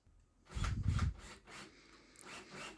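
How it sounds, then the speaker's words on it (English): Self-tapping screws being driven into wood without pilot holes while building a sled, a short grinding, rubbing burst followed by quieter scraping and rasping, close by with no talking. "These are self-tapping screws, so I don't have to drill any pilot holes."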